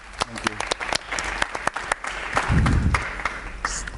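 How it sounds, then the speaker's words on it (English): Audience applause at a youth urban assembly panel in Abu Dhabi, a burst of clapping from the crowd mixed with a voice speaking over it and a brief louder swell near the end. "Let's give him a round of applause."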